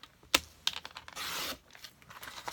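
Black cardstock being cut to size on a paper trimmer, a quick snap followed by a longer, steady scraping slide of the blade, close and fairly quiet with no talking.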